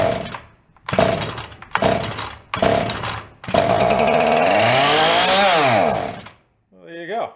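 An old salvaged chainsaw engine fires in four short bursts of loud two-stroke rasp, then catches and runs steadily for several seconds, its pitch rising and falling as it revs high on choke before cutting out, with a brief voice after.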